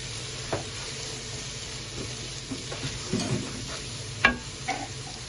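Beef tripe frying in a pan with chilli powder gives off a faint, steady sizzle. Scattered spoon scrapes and taps from stirring punctuate it, with one sharper clack near the end and no talk.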